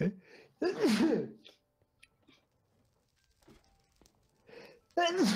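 Two loud, close sneezes, one early and one at the end, with a quiet stretch between them broken by faint rustles and a laugh.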